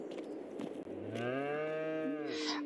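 A cow moos in the game Farming Simulator 22, one long, rising, harmonic low moo over faint background noise after a brief rustle, close and clear with no talk.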